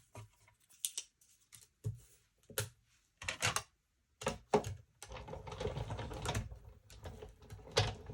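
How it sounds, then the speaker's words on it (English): Paper is snipped by hand to cut out a die-cut number, giving a string of short, close, crisp cuts and rustles with brief pauses, then a denser run of scraping and handling. "Let me just cut my final number 2."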